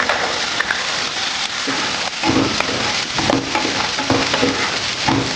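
Chopped carrot, beetroot and soaked peas frying and being stirred in a pan for street-style pav bhaji, a steady close crackling sizzle with repeated scraping stirs throughout.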